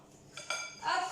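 A utensil stirs egg yolks in a bowl, clinking faintly against the sides in a quiet, close, brief burst.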